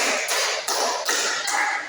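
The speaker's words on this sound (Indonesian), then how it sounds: "Tepuk 1, tepuk 2, tepuk 3, tepuk 4." A classroom of students claps in a group rhythm game, with four distinct bursts of many hands spaced evenly about every 0.4 seconds, each followed by a short decaying wash.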